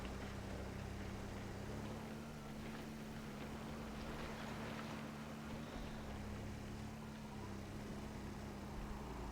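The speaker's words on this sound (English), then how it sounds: "I like the way this tier 2 engine sounds." A steady tier 2 car engine in the video game Scrap Mechanic drones continuously with a low tone and broad roar, unchanging throughout, no voices present.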